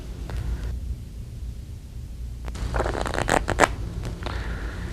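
An oversized deck of cards that includes a torn-edged King of Diamonds is shuffled close up, giving a quiet rustle that builds into a burst of quick riffling snaps and scrapes.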